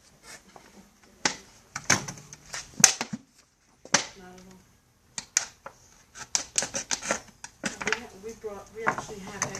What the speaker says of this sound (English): So I just put a hole there like that, and then